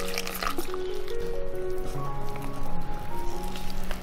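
Batter of flour, tapioca starch and brown sugar yeast water being stirred in a bowl for a Hakka brown sugar steamed cake, giving a steady, close wet squelching and sloshing that continues throughout.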